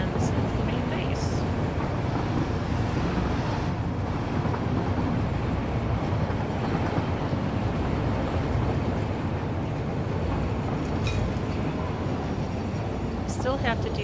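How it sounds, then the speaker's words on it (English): A train running in the factory-building video game Satisfactory, heard as a steady, dense mechanical rumble that stays loud and unbroken throughout, with occasional faint high whines on top. "Trains are so cool in this game."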